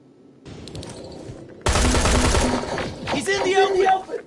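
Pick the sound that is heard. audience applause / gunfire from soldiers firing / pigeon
gunfire from soldiers firing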